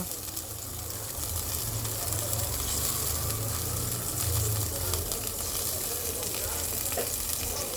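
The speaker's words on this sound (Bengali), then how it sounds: "ঝোলে খুব সুন্দর বলক চলে এসছে ঠিক এই সময় দিয়ে দেবো আমি ভেজে রাখা কই মাছগুলো" Koi fish curry at a rolling boil, with fried roe-filled koi fish being added, gives a steady, close bubbling sizzle that holds level throughout, with no talking.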